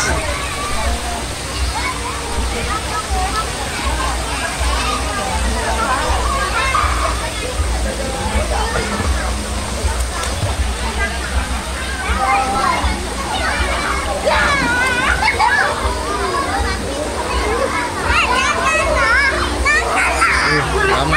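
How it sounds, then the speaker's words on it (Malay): Children shout and play in a hot spring pool at a night park, with steady splashing and sloshing water under a lively crowd babble throughout. "Kolam air panas."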